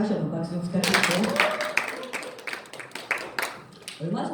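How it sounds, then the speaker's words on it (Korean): Applause from an audience at a Y.E.S. Group corporate lecture event, a burst of clapping that starts after a voice, swells and then tapers with mixed talk and cheers. "다시 한번 박수 부탁드리고"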